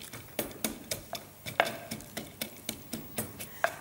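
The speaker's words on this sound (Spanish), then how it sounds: "yo voy a seguir machacando" Steady, evenly spaced knocks of a picada being pounded and chopped for a monkfish all i pebre stew ring out up close, about a dozen sharp strikes in a regular rhythm with no talking.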